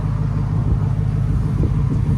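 A BMW V10 idling with a downpipe and X pipe, heard from inside the car, gives a deep, steady, loud low rumble with a slight lumpy pulse and no revving.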